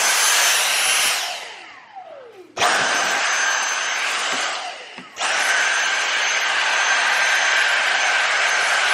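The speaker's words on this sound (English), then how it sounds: "Now you want to go around the channel and give it a vacuum" A vacuum cleaner runs close up while cleaning the rear window trim channel of a BMW E90, a loud steady whine that winds down, then restarts twice, running alone without talk.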